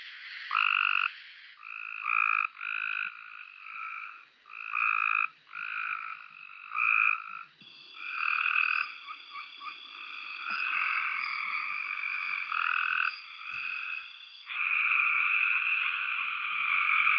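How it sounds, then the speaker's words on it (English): A chorus of Cope's gray tree frogs in North Carolina gives harsh, buzzy trills in repeated bursts, several calls overlapping into a loud, near continuous din toward the end. "This is the Cope's gray tree frog."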